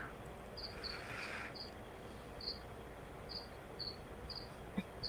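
Crickets chirp in short repeated bursts over a quiet outdoor background, fairly faint and spaced irregularly, with a brief soft knock near the end.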